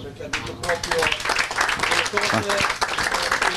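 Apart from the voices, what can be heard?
players applauding Gianluca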